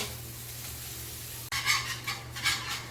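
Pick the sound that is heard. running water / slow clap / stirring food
stirring food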